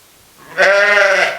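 Sheep, apparently Hampshire Down, give one loud, close, sustained bleat that swells in and holds steady. The call carries clear harmonic layers and sounds alone, with no talk.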